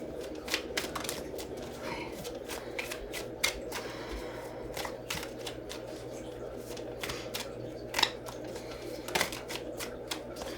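A deck of tarot cards is shuffled by hand in a quiet room, a long run of quick, crisp riffling flicks and taps at close range, with no talk.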